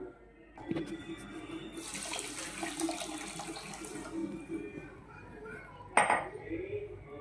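Water splashes and pours into a metal pot, half a litre for a sugar syrup, amid clinking of utensils and cookware, ending in a sharp metallic clank.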